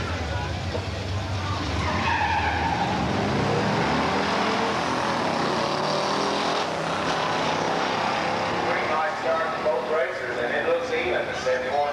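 A 1971 Dodge Challenger R/T with a 440 six-pack and four-speed racing a 1965 Pontiac GTO with a 389 and automatic at a drag strip, engines roaring loudly and continuously as the cars launch and pull away, with announcer talk over the noise.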